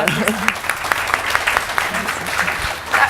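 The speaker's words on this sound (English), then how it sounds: "round of applause" A brief burst of applause at a talk, scattered claps pattering under a voice speaking over them.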